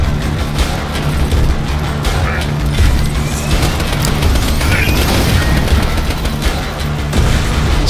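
Suicide bomber explosions in Borderlands 2 go off amid a loud firefight, with heavy booms and crashes over rattling gunfire and a constant rumbling din.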